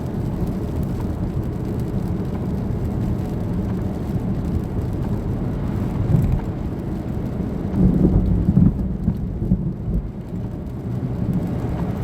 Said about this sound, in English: Did y'all hear that thunder?